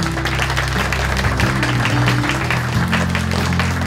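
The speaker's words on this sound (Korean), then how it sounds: "총무원장 스님을 큰 박수로 모시겠습니다." Hands clap across a hall at a Korean Buddhist press culture award ceremony as the Jogye Order's head monk is welcomed: an even, continuous burst of applause over low sustained tones, with no voices.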